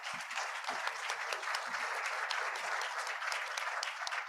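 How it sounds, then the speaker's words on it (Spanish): Warm applause from a seated audience after a panel speaker at an international affairs discussion, sustained and even clapping with a few sharper claps near the front. "me hubiera sentido muy celoso si le habían aplaudido a Carolina y no a mí"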